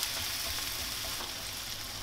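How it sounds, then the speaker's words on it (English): Butter melting in olive oil in a pan while cooking a buttery spaghetti bolognese, giving a steady, continuous hiss and sizzle at moderate level throughout, with no talking. "I like to throw this in now, get that melting in with the olive oil, and that stops the butter from burning."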